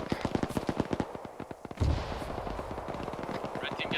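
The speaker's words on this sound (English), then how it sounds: "Yeah, mortars coming in." Mortar rounds and gunfire in the Arma military game, a rapid string of sharp shots followed by a heavy boom, with steady firing continuing under radio chatter.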